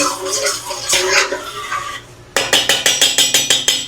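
A spoon stirs flour into hot cooking oil in a frying pan. The sound moves from soft sizzling and scraping to a quick run of about ten regular metallic taps and clinks against the pan.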